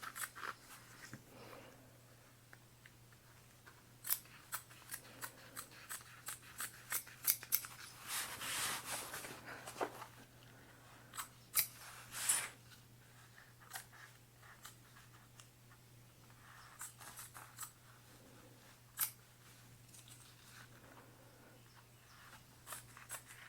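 Scissors snip the fabric lining of a pool tote, close and quiet, in scattered sharp cuts separated by irregular pauses, with a few denser bursts of crunching cuts.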